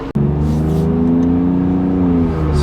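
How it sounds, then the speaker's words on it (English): Alfa Romeo Giulia Quadrifoglio fitted with a TFL X-pipe exhaust revs hard and close, a loud, steady, rasping drone with a strong tonal growl holding for a couple of seconds after a sharp start. "So no one's really heard the car yet with the TFL X-Pipe on."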